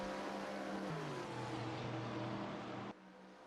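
A Corvette GT3 race car at Road Atlanta during a GT3 race, its engine a loud, sustained drone that drops in pitch partway through, then cuts off abruptly near the end.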